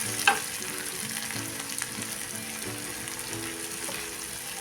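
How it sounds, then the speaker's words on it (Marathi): Tomato masala with turmeric sautéing in a pan: a steady close sizzle and frying crackle with faint stirring scrapes, a small clink at the start, and no talking. "एक एक पदार्थ टाकून आपण चांगलं परतून घ्यायचं आहे"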